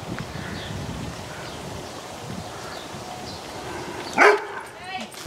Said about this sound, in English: Hi, puppy.